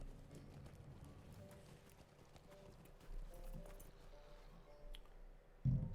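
Horse hooves clip-clop steadily as a horse travels in a video game, a soft rhythmic trot under faint ambient game sound, ending with a louder low thump.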